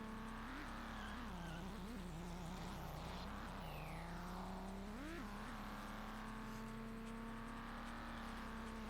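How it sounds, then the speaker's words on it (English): The Emperor car in the Re-Volt racing game gives off a steady, aggressive engine drone with rising and falling revs, fairly loud and continuous, with a sweeping pitch change midway. "The Emperor, such an aggressive engine sound as well."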